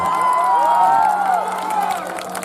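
A crowd at a live stage show in Kushinagar claps and cheers continuously, a broad roar of applause with whoops, while a tonal musical sound rises and falls over it.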